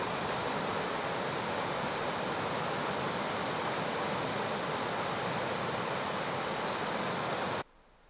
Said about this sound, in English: This is the Chilliwack River.